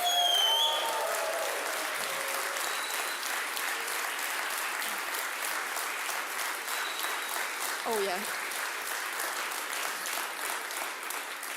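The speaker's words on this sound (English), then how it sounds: "Guys, applause." An audience at a solar energy product launch applauds in a sustained, even wash of clapping that runs for over ten seconds, with a few brief voices and a short spoken exclamation over it.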